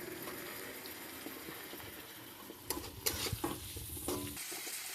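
Chopped capsicum and cabbage stir-fry in a pan for egg chow mein, with a steady close sizzle under scraping and tossing. A few louder clattering stirs come near the end, with no talk.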